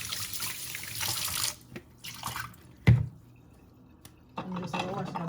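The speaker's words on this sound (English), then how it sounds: "I'm just gonna wash my bowl in and wash out back the sink." Running tap water splashes into a kitchen sink while a bowl is washed, with gaps in the flow, a sharp clunk of the bowl partway through, and the stream starting again near the end.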